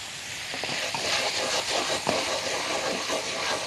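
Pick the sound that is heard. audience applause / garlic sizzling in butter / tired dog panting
garlic sizzling in butter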